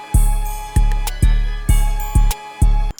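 Hard-hitting 808 trap beat with no soft clipper, booming sub-bass hits landing about every half second with sharp kick transients, crisp hi-hats and a sampled melody on top, loud and upfront with no voices.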